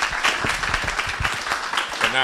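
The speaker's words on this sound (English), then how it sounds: "Let's receive Patrick with a round of applause." Audience applause at a university leadership dialogue, with uneven claps under a speaking voice and a voice rising clearly near the end.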